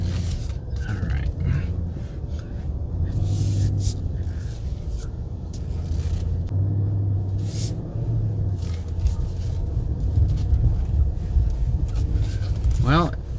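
Inside a 2022 Nissan Titan Pro-4X pickup truck on the move, a steady low road and engine rumble fills the cabin, with small bumps and rattles, while someone talks over it.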